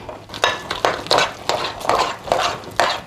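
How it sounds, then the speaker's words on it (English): Cake mix and strawberry pie filling being stirred together in a bowl, with a run of regular scraping strokes, roughly one every half second, close and fairly clear with no talking. "Now let's just stir this together."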